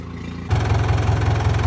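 A tractor engine catches and settles into a steady, heavy low rumble after a brief quieter moment, running loud and close with no talk.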